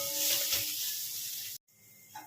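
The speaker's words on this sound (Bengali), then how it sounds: "সেই আদা আর কাঁচা লঙ্কাটা আমি তেলের মধ্যে ভালো করে একটু ভেজে নিচ্ছি।" Ginger and green chilli paste fries in hot oil with a soft, continuous sizzle and hiss, then a brief cutoff before the quieter sizzling resumes.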